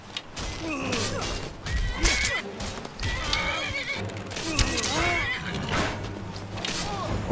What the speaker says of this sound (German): das Pferd!